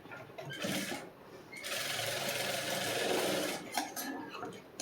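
Electric sewing machine stitching a seam on a back-open princess-cut blouse, a close whirring mechanical run in bursts with short pauses between them, no talk.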